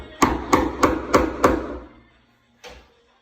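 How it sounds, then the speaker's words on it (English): A wood chisel driven by a mallet to clear out a mortise cut in a wooden door, giving five sharp, evenly spaced whacks close up followed by one more strike after a short pause. "with your wood chisel and clear it out"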